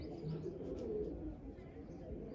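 Pigeons coo softly in a loft or rooftop setting, low murmuring calls repeating under faint ambient noise and some distant background sound.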